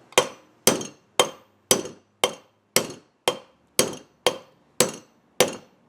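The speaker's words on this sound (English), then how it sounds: "you put it on the thinner end of the tapered drive pin, the end without the grooves in it, and you drive it out" A tapered drive pin driven out of a pedestal sprocket with a hammer and punch: eleven sharp, evenly spaced metallic strikes, close and loud, each ringing briefly before the next.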